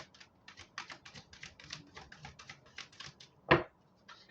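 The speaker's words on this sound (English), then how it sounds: "And for some reason I can't stop shuffling." Tarot cards are shuffled in a quick run of soft, crisp riffles and taps, faint and close, ending in one sharper slap of the deck.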